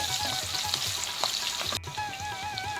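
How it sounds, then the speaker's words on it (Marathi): Crushed garlic cloves and green chillies sizzling in hot oil as a tempering for a fenugreek vegetable dish, a dense close crackle with a brief break partway through, no voices. "फोडणीमध्ये ठेसलेल्या लसणाच्या पाकळ्या आणि हिरवी मिरची घालूया आणि ही फोडणी आता छान परतून घेऊया"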